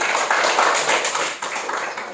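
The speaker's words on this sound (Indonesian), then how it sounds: "Tepuk tangan." A classroom group claps after a correct answer during a lesson on the senses, making a short burst of dense, bright hand claps that lasts about two seconds, close by and fairly loud.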